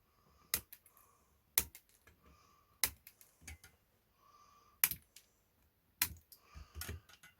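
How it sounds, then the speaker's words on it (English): Cutters snipping the lead ends off components on a Velleman MK124 rolling message board kit in a shed: sharp, isolated clicks spaced about a second apart against a quiet background, close and moderately loud. "Let's just snip the ends off."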